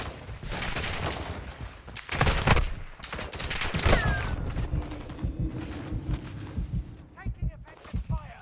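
Bursts of gunfire rattle through a Warzone 2 firefight, with sharp close shots and rapid volleys coming in clusters, some loud and some farther off, under voices talking.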